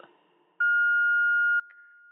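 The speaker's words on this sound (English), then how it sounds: "Please leave your message after the beep." A single steady electronic voicemail beep, clear and loud, holds for about a second after a brief automated greeting tail, followed by faint background noise.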